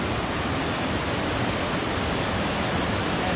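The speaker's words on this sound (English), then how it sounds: "And this is the little river." A small river flows beside a hiking trail, a dense, even rush of water filling the scene, steady and close with no voices.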